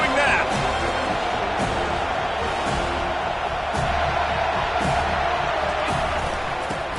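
Large football stadium crowd roaring and cheering at a Noles versus Ducks game, a loud, dense, sustained wash of voices with scattered louder whoops and bangs throughout.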